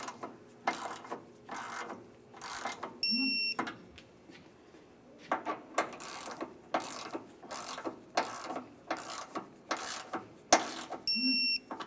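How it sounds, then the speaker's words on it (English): Ratchet wrench ticks in repeated bursts while snugging the AC condenser mounting bolts on a 1994-2002 Dodge Ram 2500, close and distinct, with short pauses between strokes and a couple of brief electronic beeps. "Snug them up. Torque each of these to 95 inch pounds."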